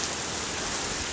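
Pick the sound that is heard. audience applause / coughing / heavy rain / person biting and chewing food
heavy rain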